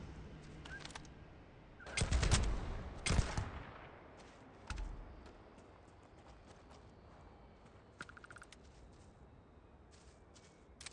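Gunfire at a shooting range in a video game, with a few loud bursts of shots early on and scattered fainter pops later, heard alone.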